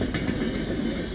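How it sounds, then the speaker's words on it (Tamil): Indian Railways passenger train with AC coaches rumbles past nearby, a steady low rolling roar with faint rhythmic wheel clatter throughout. "ட்ரெயின் வருது பாருங்க, இந்தியன் ரயில்வேஸ் 39161 பேசஞ்சர் ட்ரெயின்"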